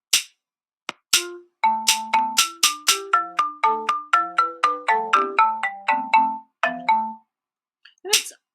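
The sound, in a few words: melody composed in Chrome Music Lab Songmaker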